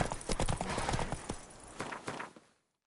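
Hoofbeats of Roach, Geralt's horse in The Witcher 3, clip-clop in a quick, steady rhythm, fairly close and clear, fading out toward the end.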